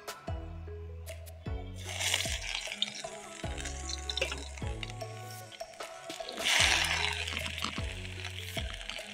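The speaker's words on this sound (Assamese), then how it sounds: "তেল মই অলৰেডি দিয়েই ল'লোঁ এতিয়া মই দিম আদা নহৰুৰ পেষ্ট" Ginger-garlic paste fries in hot oil for an Assamese chicken dish, a bubbling, hissing sizzle that surges loudly partway through, heard under prominent melodic background music.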